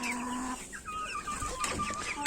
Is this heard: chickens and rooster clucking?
yes